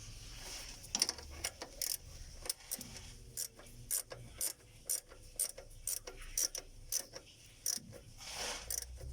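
A 12 mm ratchet wrench tightens the starter ground on a Toyota Fortuner. Faint, close clicking comes in short, irregular bursts of ratcheting strokes throughout.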